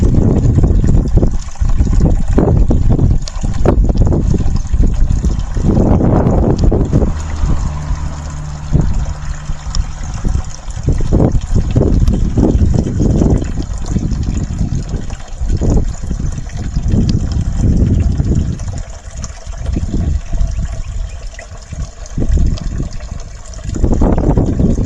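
A hall bathroom toilet flushes loudly and close, a rushing gush of water swirling and draining for over twenty seconds with brief handling knocks and a faint voice early on.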